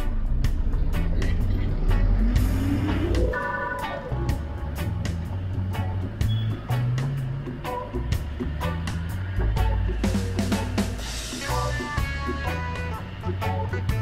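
Street traffic in Pokhara, Nepal, with a bus engine rumbling and revving nearby, a rising engine tone early on, scattered horn-like tones and sharp clatters over steady road noise.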